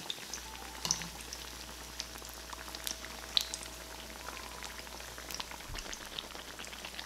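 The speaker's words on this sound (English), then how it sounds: "It's still bubbling vigorously, which means that the heat is at the right temperature." Trinidad baiganee, battered eggplant fritters, bubble vigorously in oil over low heat: a quiet, steady frying fizz scattered with small crackles and pops over a low hum.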